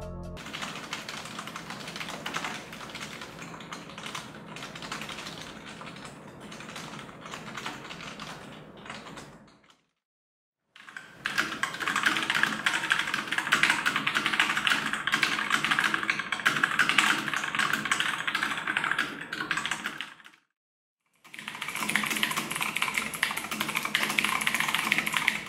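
Typing on a Gamdias Ares P1 RGB membrane keyboard, a steady dense patter of soft key presses running continuously with two short silent breaks, fairly close and alone with no talk.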